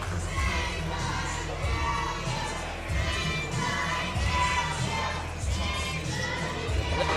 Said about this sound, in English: The crowd clearly behind Synn on this one